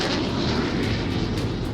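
Indian Air Force fighter jets, including Rafale and Tejas, flying overhead at an Air Force Day dress rehearsal, a loud sustained roar of jet engines rumbling across the sky.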